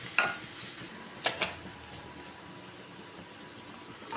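Onions, garlic and curry leaves sautéing in a pan, a soft hiss with a few stirring clinks and scrapes of a utensil against the pan, fairly quiet and close.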